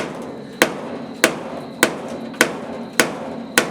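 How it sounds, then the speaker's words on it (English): Six sharp, evenly spaced hammer taps on the top of a metal car part held under maximum pressure in a shop, loud and close with a metallic ring, no talk. "I'm actually going to tap the top with a hammer to relieve some pressure."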